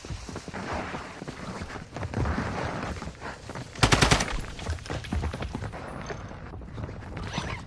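Gunfire in Call of Duty DMZ comes as loud, rapid bursts of automatic shots among scattered nearby shots, with a sharp, dense burst near the middle.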